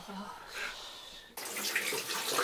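Shower water runs in a cold rooftop room whose boiler has broken. A soft trickle starts first and then turns into a loud, steady gush.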